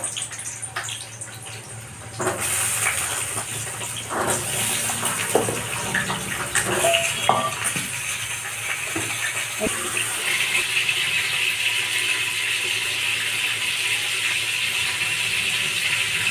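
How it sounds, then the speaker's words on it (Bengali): Potatoes frying in hot oil for a mutton and potato curry, a steady broad sizzle and hiss with some clattering and stirring near the start, continuing unbroken at an even level. "এবার আমি আলুগুলো ভেজে দিচ্ছি।"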